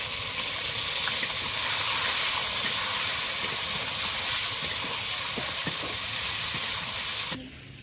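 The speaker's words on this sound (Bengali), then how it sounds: "মাংসটা আমি ভেজে নেব। মাংস তেলে দিয়ে দিয়েছি" Chicken pieces frying in hot oil with a little turmeric, making a loud, steady, close sizzling hiss that runs unbroken for several seconds before cutting off abruptly near the end.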